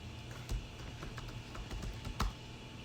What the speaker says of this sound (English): My typing hasn't gotten any better since the last time we saw each other last week